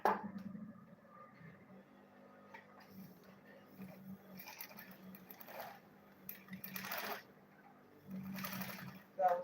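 A sewing machine stitches the side of a homemade fabric lunch bag in several quiet bursts, with someone speaking steadily between and over the runs.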